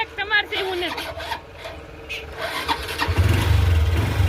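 A motorcycle engine is kicked over and catches, with rasping cranking strokes under talk that then settle into a steady, low running rumble close by.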